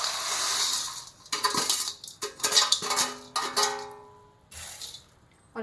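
Ladle scraping and clinking against a pan as fried gond is gently stirred into a ladoo mixture, a few separate bursts of metallic scraping with short pauses between them, close and moderately loud with no talking.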